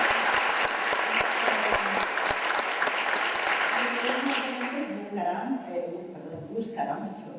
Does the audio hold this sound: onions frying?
no